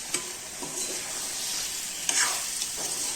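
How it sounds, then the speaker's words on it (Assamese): Pork with bamboo shoots and potatoes sizzles steadily in a hot pan while a spatula scrapes and stirs it in several distinct strokes, close and continuous with no talk. "ভালকৈ এইখিনি ভাজ খাবলৈ দিম"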